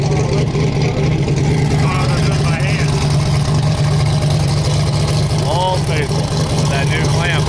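A tuned high-performance car engine idles roughly just after startup, a loud steady rumble running throughout while people talk over it nearby.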